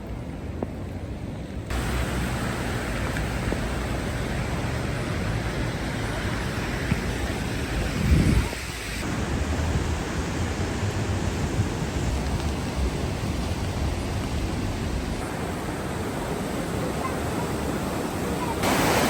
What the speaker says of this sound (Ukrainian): Така сила води, яка потужність